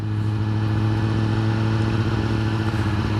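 A 2021 Kawasaki ZX-10R sport bike cruises on the road, its engine droning steadily and loudly with a constant hum and no voices.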